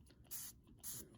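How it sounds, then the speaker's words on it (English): Two short hissing bursts of Aegis gun cleaner sprayed onto a Ruger SR1911 pistol, each lasting about a quarter second, close and crisp against a quiet background. "I'm going to spray some of this on here."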